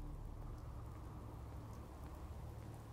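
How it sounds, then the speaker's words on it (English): Rain falling in the Fallout 4 video game: a steady, muffled patter with a deep rumbling undertone, continuous and even, with no voices. "Hope this rain lets up soon."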